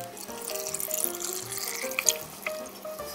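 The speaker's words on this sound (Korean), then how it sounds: "간장 국물은, 장아찌 국물은 쪼르르 부어주세요." Soy sauce pickling brine poured over radish pickles in a jar, a close continuous trickling splash with light bubbling, fairly soft and steady.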